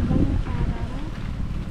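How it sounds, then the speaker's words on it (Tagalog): Strong wind buffets the microphone outdoors on a farm, a dense, steady low roar that fills the whole moment with no break. "lakas ng hangin"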